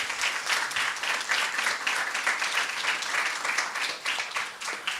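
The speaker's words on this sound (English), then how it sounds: "Let's give both schools a round of applause." At a school debating competition, an audience gives both debating schools a round of applause. The clapping is brisk and continuous from start to end and fairly close.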